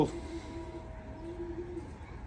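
Racing pigeons coo softly in a loft, a low drawn-out call repeated a couple of times over faint background hiss, with no voices.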